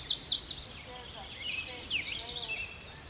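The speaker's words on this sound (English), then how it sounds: "and an American robin." American robin singing outdoors in July amid other birds: a steady stream of high, clear chirps and warbled phrases at moderate distance over a faint ambient hiss.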